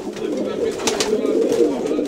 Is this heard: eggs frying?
no